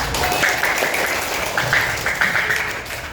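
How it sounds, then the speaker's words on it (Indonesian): Classroom of students clapping together at the end of a group quiz in an Islamic jurisprudence lesson, a lively, fairly loud burst of many hands with some voices mixed in, lasting a few seconds. "Tepuk tangan untuk semua."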